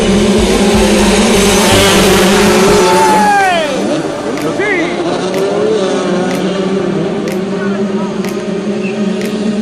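Motocross motorcycles at a race start roar at full throttle in a loud, dense engine blare, with rising and falling pitch sweeps as bikes pull away, fading somewhat into a sustained drone of engines further off.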